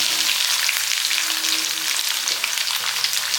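Finely chopped garlic and curry leaves fry in hot oil, a steady bright crackling sizzle close up with no voices.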